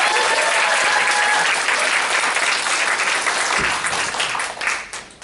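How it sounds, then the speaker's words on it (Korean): Audience applause after a lecture at an indoor business seminar, loud and dense clapping from a large crowd, sustained close then tapering off toward the end. "다시 한번 큰 박수 부탁드립니다"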